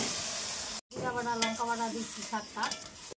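Pumpkin greens frying with ginger and cumin paste and a little water, a steady sizzle broken by scraping, clinking stirs of a spoon in the pan, with a brief pause partway.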